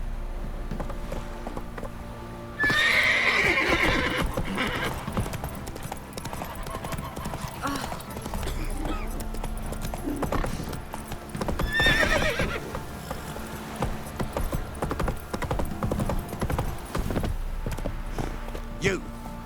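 Roach, Geralt's horse in The Witcher 3, gallops with steady clip-clopping hooves and lets out loud neighs, mixed with game music and effects, with voices talking over parts of it.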